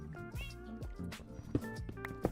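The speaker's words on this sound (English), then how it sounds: "Although I can still hear the cat" A cat in the Minecraft video game meows several times in quick succession, with clear, tonal calls that rise and fall and sit close and fairly prominent.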